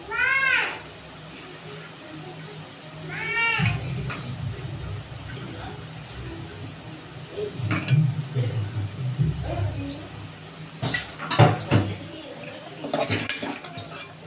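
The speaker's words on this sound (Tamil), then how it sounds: "இப்போ நல்லா கிளறிக்கங்க" Vegetables for veg biryani (beans, carrots, potatoes and peas) stirred in a pot, with spoon scrapes and clinks of metal against the pot in several bursts, a gentle sizzle beneath, and a voice talking over parts of it.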